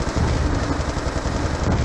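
Explosions and gunfire from the video game Call of Duty Black Ops 2 Zombies, a dense, continuous, loud roar of blasts and rapid shots with no clear gaps.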